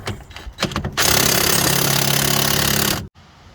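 Impact gun loosening a bolt with a 17 mm socket on the front driver axle of an Infiniti G37/G35, a short burst of hammering after brief clanks, loud and close, then cutting off abruptly.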